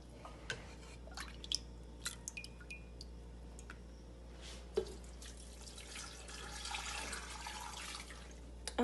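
Fresh mountain water trickles and drips while being poured for an immune-boosting herbal tea, a faint, close splashing with scattered drip clicks and no talking.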